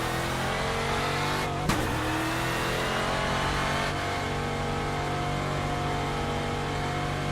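NASCAR-style race car with a 5-speed gearbox, driven in iRacing: a steady, loud engine drone throughout, with a sharp pitch shift near the two-second mark like a gear change, and no voices.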